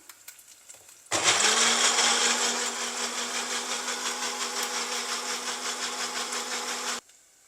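A mixer grinder whirs into action, grinding masala for a jackfruit-seed curry: a sudden loud motor roar that holds steady for about six seconds with a faint rhythmic pulsing, then cuts off sharply.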